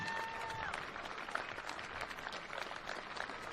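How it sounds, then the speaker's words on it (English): Spectators stand and applaud the South Hobart players at an NPL football match against Devonport City Strikers, steady scattered clapping from a modest crowd heard at some distance, with a brief whistle-like tone near the start. "Crowd standing up and applauding South Hobart players"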